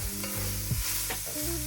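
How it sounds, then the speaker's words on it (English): Vegetables stirred into a sizzling dark brown roux for chicken sauce piquant over reduced heat, a close wet sizzle with soft scraping strokes of the spoon over a low steady hum. "We've reduced the heat, so now we're gonna put in the vegetables into our roux."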